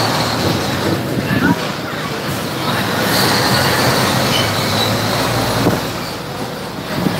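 A festive party train rolls through the streets of Ponte Nova, Brazil, with a continuous loud rumble and rattle throughout and people talking over it.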